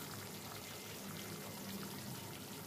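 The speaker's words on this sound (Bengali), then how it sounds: "এবার এর মধ্যে ফেটিয়ে রাখা টক দইটা আমি অ্যাড করে দেব।" Whisked sour yogurt pours steadily into cooked spices in a pan for a Bengali paneer and potato curry, a soft continuous wet pouring with a faint sizzle, quiet and close, with no voices.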